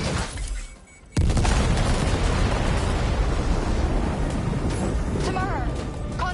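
Gunfire and explosions in the video game Death Stranding 2, a sudden loud blast erupting into sustained roaring, crackling combat noise, with a voice heard faintly underneath.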